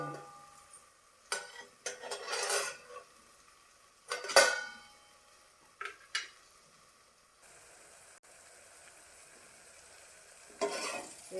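Spiced cucumber curry cooks in a covered pan, a faint simmering sizzle broken by a few short clattering bursts of lid and utensil handling, quiet and close.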